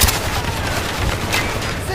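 Dense, continuous gunfire in Call of Duty: Black Ops, a rapid crackle of shots over two seconds with booming low-end hits, close and loud throughout.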